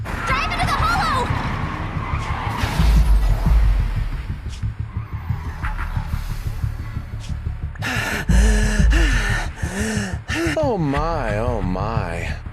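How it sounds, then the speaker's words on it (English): Truck crash with skidding, squealing tires in the video game Zenless Zone Zero, loud engine roar and bursts of screeching skids mixed with game music, with voices talking and gasping throughout. "What's up with that truck? We're gonna crash!"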